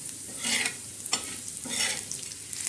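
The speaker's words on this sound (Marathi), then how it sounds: "हे बघा या पद्धतीने मसाला छान असा भाजून घ्यायचा" Black masala dry-roasting in a pan gives a steady soft sizzle, while a utensil stirs and scrapes through it in repeated sweeping strokes, close and continuous, with no voices.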